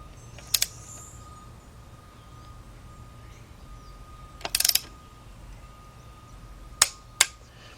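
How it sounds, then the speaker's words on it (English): A torque wrench clicking while tightening an engine bolt on a 2006 Kia Sportage 2.7 during an engine rebuild, a few sharp isolated clicks spaced seconds apart over a low workshop hum. "we're gonna tighten until it clicks"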